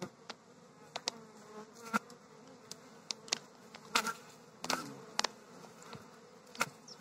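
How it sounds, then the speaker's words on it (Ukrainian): Honeybee colony in an open hive during a cold, late spring, crowded with many drones, buzzing steadily at close range with frequent sharp bursts as individual bees fly past the microphone. "Трутні море, бджола повиходила."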